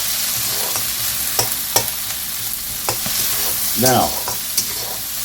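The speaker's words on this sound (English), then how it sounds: "Keep that wok going nice and hot." Onion stir-frying in a hot wok, a steady loud sizzle with repeated scraping stir strokes and a brief clatter, a single spoken word over it.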